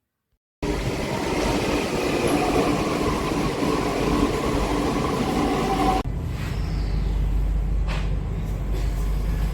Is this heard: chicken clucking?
no